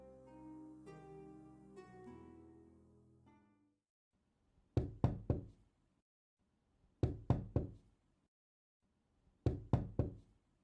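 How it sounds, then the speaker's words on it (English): Knocking on a window late at night: three separate bursts of sharp raps, each two or three knocks, clear and close in an otherwise quiet room after a fading musical tone. "There's someone knocking at my window."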